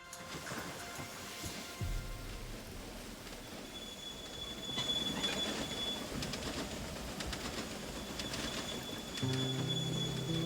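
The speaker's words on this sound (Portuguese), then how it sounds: "É o trem, tá chegando ali." A steam-era style train rolls into a station in Railway Empire 2, wheels clattering and squealing with a thin metallic whine, low rumble building, then a deep whistle-like horn tone near the end; no voices heard.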